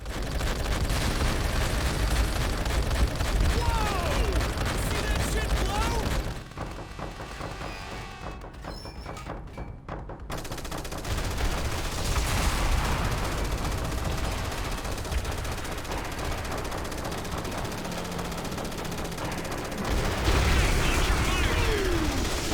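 Rattling automatic gunfire and booming explosions from the Pacific campaign of Call of Duty: World at War, continuous and loud, with a brief quieter lull partway through before the shooting resumes.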